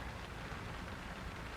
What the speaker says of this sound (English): it's proper raining